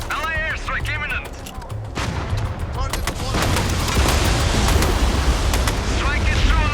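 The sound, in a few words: airstrike explosions in Mindseye video game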